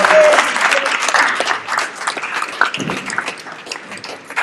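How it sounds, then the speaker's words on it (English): A burst of applause from a crowd at a sports banquet, loud at first and gradually thinning into scattered claps, with a few voices mixed in. "Everybody clap it up for Jacory."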